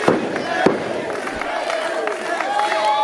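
A loud wrestling arena crowd roars and cheers continuously, with sharp bangs and thuds from the ring cutting through the dense noise.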